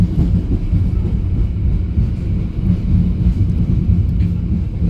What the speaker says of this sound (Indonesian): sesaat lagi kereta api Mutiara Timur akan tiba